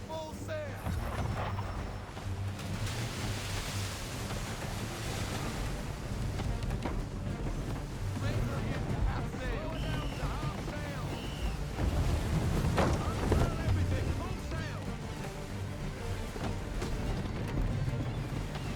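Sailing ship running at full sail on the open sea in Assassin's Creed 3: a constant roar of wind and rushing water, loud and unbroken, with voices talking over it.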